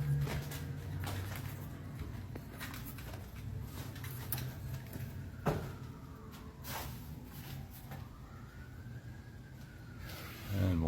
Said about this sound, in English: And more sirens in the background.